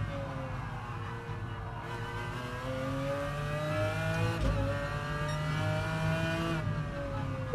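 Race car engine on the Laguna Seca circuit in Gran Turismo Sport, a loud droning whine climbing steadily in pitch through the gears, with shifts around the midpoint and near the end.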